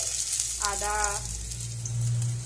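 Spice paste of ginger, dried chilli, cumin, coriander and green chilli going into onion and garlic frying in a pan for chicken pulao, a steady close sizzle with a brief stirring scrape partway through.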